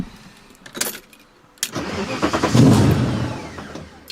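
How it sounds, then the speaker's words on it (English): A V8-swapped BMW E30 cranks over and catches, firing into a rising, rough engine roar that swells and then settles into a steady idle, close and loud, after a couple of short clunks. "I'll start it back up."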